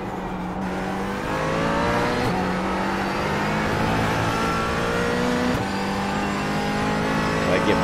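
A GT4 race car's engine roars steadily during a K5 Championship race on the Texas roval, a loud, sustained drone with strong harmonics and a few slight rises in pitch, with no voices over it.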